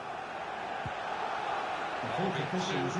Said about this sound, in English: The crowd turning up the noise.